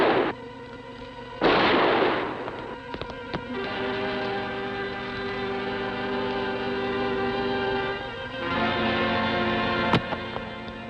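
A single sharp gunshot fired at a fleeing unarmed man who ignored warnings, a loud close crack followed by a second fainter report, then another brief crack near the end over a steady dramatic background drone.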